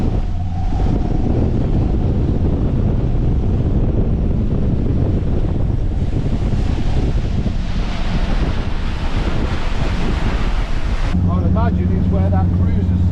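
Powerboat engine droning under heavy wind buffeting on the microphone during a racing turn on a powerboat race course, loud and continuous, with water rushing throughout and a voice talking at times.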